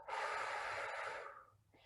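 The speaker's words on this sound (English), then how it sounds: "You're going to tighten all the stomach muscles, letting it fall inward, like towards your belly button, as you exhale through your lips." A single long, breathy exhale through pursed lips during belly breathing, steady and close for over a second before trailing off, with no speech.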